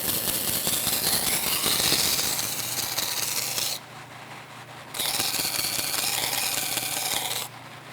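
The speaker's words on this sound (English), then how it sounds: "So first we're going to grind the geometry of the secondary edge on both sides." A kitchen knife's secondary edge is ground on a rough sharpening stone: a loud, steady rasping scrape runs for nearly four seconds, stops briefly, then resumes for another long stroke before cutting off again.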